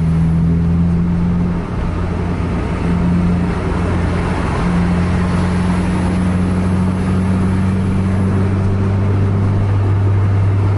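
A Scania bus of the Kurnia AW line pulls away on a road, its loud, steady engine drone and low rumble rising in pitch, close and continuous with road noise and no talking.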